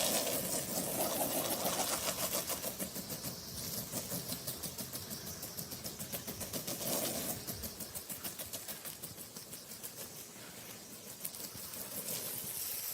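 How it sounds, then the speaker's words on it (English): A loud, steady shop vacuum motor roars continuously with a breathy hiss while cleaning an area rug, its whine swelling slightly at moments as the nozzle moves. "We're gonna get off to vacuuming"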